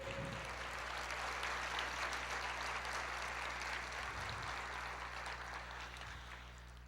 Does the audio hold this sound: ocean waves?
no